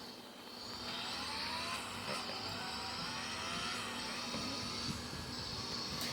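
A Ferrari's V12 engine in the Vehicle Legends racing game, a steady mid-distance drone with rising and falling engine tones and faint revving under a constant hum, no talk.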